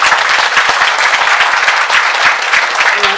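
Warm applause from a packed audience at a winter song and tea gathering, dense steady clapping filling the room for a few seconds after two dancers open the show.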